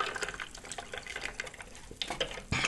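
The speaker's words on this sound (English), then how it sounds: "I'm mixing Kool-Aids." Kool-Aid drink is mixed with water in a kitchen, liquid sloshing and splashing in irregular bursts with clattering handling noises, close and moderately loud.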